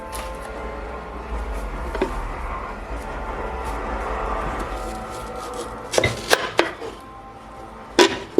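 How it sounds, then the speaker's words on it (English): An onion chopped with a knife on a board, soft scraping at first, then several sharp, close knocks of the blade in an uneven rhythm, with faint video-game noise in the background. "Cut up an onion, cut up an onion."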